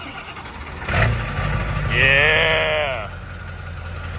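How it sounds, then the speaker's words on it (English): A 7.3 liter diesel engine idles with a steady low rumble nearby, while a brief voice and a bleating, sheep-like call rise over it midway. "I love the sound of diesel in the morning."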